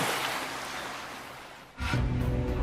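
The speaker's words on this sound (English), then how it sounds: "Waves have definitely picked up." Ocean waves wash along a shoreline by the Calvert Cliffs, a broad hiss that fades off before a fresh, louder surge of surf crashes in near the end.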